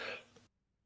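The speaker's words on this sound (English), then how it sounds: "excuse my coughing" A single short, sharp cough from a motor racing commentator, close to the microphone, fading quickly into silence.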